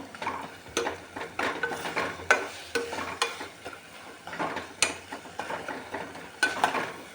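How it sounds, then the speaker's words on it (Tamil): Tomatoes sauté in a pan for tomato biryani, a soft sizzle under repeated close scraping and clinking of a spoon stirring against the metal, in an irregular rhythm without speech. "இப்போ தக்காளி நல்லா வதங்கிடுச்சு"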